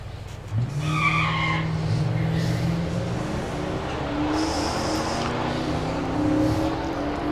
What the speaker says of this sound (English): So Mercedes running down a Mustang